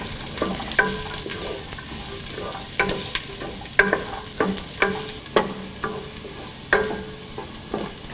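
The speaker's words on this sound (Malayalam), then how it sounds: "ഏകദേശം 8 മിനിറ്റോളം മീഡിയം ഫ്ലെയിമിൽ ഇത് വഴറ്റിയെടുക്കണം." Garlic sautés on a medium flame for pickle, a steady close sizzle punctuated by frequent scraping and tapping of a spatula against the pan.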